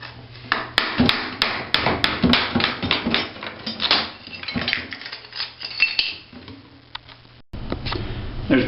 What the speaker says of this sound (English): Now we need to remove this tile because we're going to put a brand new one in.